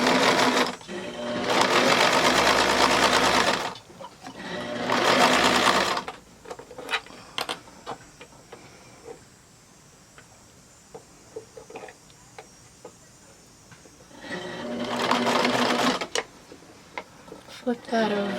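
Sewing machine stitching a Y seam, with several loud whirring runs of stitching separated by pauses full of small clicks and handling noises.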